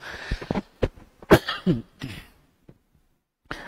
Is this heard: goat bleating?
no